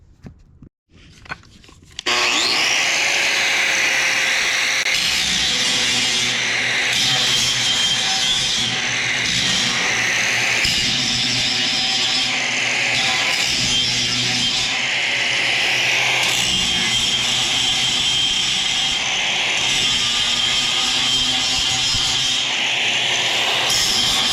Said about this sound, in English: grind these down to make it to where they are safe for the lambs to come through and won't catch on them